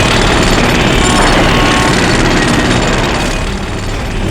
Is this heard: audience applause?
no